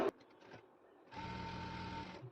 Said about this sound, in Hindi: यहाँ एक पैर की हमें सिलाई लगानी है।